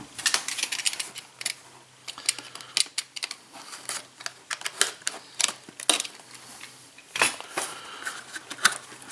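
Cardboard packaging and plastic parts of a CaDA construction kit box being opened, a dense run of sharp clicks, crinkles and rattling taps close by, with no talking.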